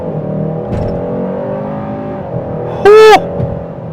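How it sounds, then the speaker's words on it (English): A 2026 Hyundai Sonata N-Line launches hard off the line in sport mode, engine rumble building under a brief sharp rising tonal burst near the end, loud and close from inside the car. "trying to get good traction off the line on the gas"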